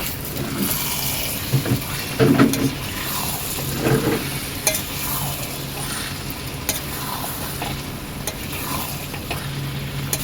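Chicken curry is stirred in a frying pan, with steady close sizzling under repeated scraping and clattering strokes of a spoon for several seconds.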